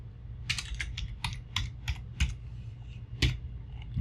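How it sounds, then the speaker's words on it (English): Keystrokes on a computer keyboard while drafting a window family in Revit software: about a dozen crisp, close clicks tapped in an uneven rhythm, with no voices. "I'm just gonna hit CO on the keyboard"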